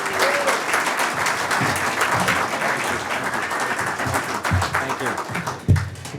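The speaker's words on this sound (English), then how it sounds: "let's give a big round of applause to Governor Greitens, Governor of the State of Missouri" Audience applause welcoming the Governor of Missouri at an innovation community event, a full, steady round of clapping from a room of people with a few louder close claps near the end.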